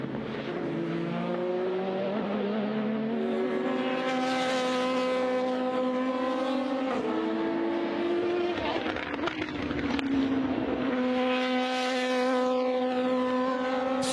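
The No. 28 e-Export Oreca prototype takes to the track during 2020 Le Mans free practice, with a steady, high, buzzing engine drone that shifts pitch as the car accelerates and changes gear, heard alone.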